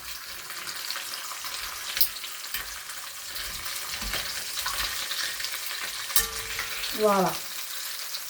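Meat browns in a frying pan with a soft, continuous sizzle and occasional stirring scrapes, heard close and fairly quiet, with a brief word spoken near the end.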